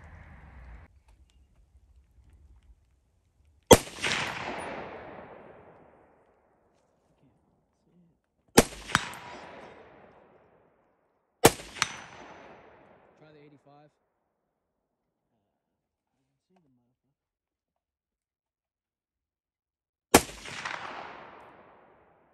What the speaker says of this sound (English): that last clip, obviously, I hit the target twice out of five shots